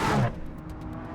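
Lamborghini Aventador S V12 engine giving a brief, loud burst that drops off quickly to a lower steady rumble, heard close and alone.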